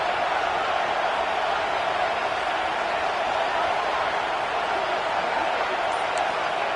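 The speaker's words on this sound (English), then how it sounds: "This crowd ready to make its presence known" Dense, steady roar of a large stadium crowd at a college football playoff game, loud and continuous throughout with no distinct voices standing out.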